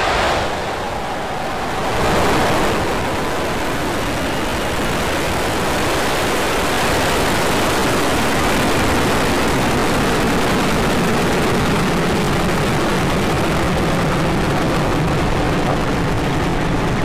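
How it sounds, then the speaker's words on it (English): A SpaceX Falcon 9 rocket lifts off carrying the CRS-18 Dragon spacecraft, its engine roar swelling after a quieter opening into a loud, sustained, crackling broadband rumble that holds to the end. "Ignition. Liftoff."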